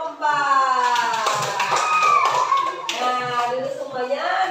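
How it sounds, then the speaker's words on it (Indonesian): Children in an Indonesian-language classroom clap for group 4. The quick patter of hands runs under a steady stretch of children's voices, close and fairly loud throughout. "tepuk tangan untuk kelompok"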